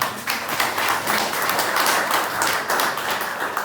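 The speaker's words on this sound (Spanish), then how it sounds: "un aplauso para el ingeniero" A crowd at an agricultural forum on cacao cultivation applauds an engineer's presentation, dense, continuous clapping from many hands that stays loud and even throughout.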